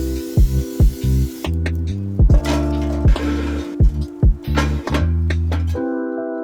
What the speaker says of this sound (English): I'm just gonna spray oil on the wood